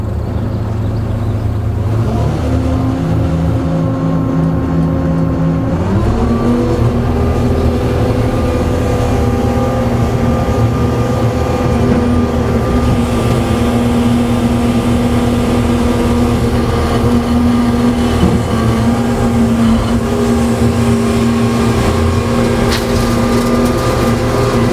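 A Gradall excavator loading a dump truck gives a loud, close diesel engine drone that climbs in pitch as the machine works and then holds a steady hum.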